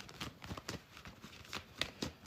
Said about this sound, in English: I don't know why I'm shuffling cards.